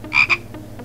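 A frog in the Simon the Sorcerer video game gives a short double croak, two quick close bursts followed by faint traces.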